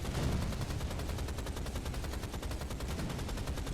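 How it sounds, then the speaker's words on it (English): Rapid repeated gunfire in the video game Rise of the Triad, a steady stream of shots running through the whole stretch at an even rhythm, dense and continuous with no talking. "We're just going to take a few shots at him from here."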